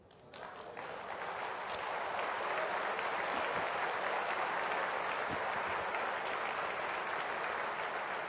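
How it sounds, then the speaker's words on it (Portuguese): A church congregation breaks into applause that swells quickly and then stays dense and even, a broad wash of many hands clapping. "Por isso, ele vai receber o nosso aplauso agora."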